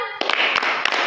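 Group clapping game in an Indonesian group guidance session, with several sharp hand claps cutting through continuous loud chanting voices over about a second.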